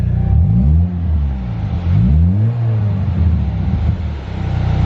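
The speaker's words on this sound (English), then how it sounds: "So that's how it sounds with the exhaust." A Saab 9-3 engine revs up and down through a loud exhaust, rising and falling in pitch several times, close and continuous with no talking.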